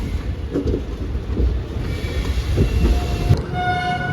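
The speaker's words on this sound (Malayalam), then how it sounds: "വെച്ചിട്ടൊരു വണ്ടി വരുന്നുണ്ട്. ഒരു LHB വണ്ടിയാ." A passenger train with LHB coaches rumbles past close by with a steady heavy roar of wheels on track, and a high tonal whine rises near the end.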